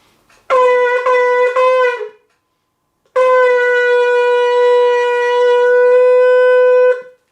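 A long steady horn blast, then after a pause a second sustained, bright, buzzy tone held for about four seconds; loud and close, no voices.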